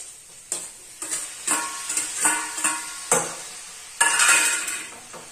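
Capsicum and tomato pieces fry in a pan while being stirred, a continuous hiss broken by repeated scraping strokes and clattering spoon knocks at an uneven rhythm, close and fairly loud with no voices.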